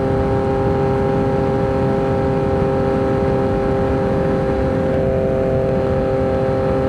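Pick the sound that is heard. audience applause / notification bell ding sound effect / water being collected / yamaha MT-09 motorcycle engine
yamaha MT-09 motorcycle engine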